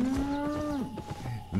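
A single long cow moo in the online game Albion Online, drawn out and fairly close, ending as another lower call begins.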